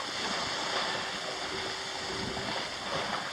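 Sailboat cutting through a choppy cross current or riptide off the Jersey shore at night, a continuous rush of water and wind noise against the hull, steady and close, with no talking.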